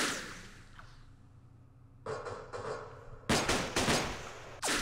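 Sniper rifle fire in the Campaign Series Vietnam war game, Mekong setting: sharp, loud reports arrive in clusters after a quiet stretch, each crack trailing off quickly, with a burst of several rapid shots near the end.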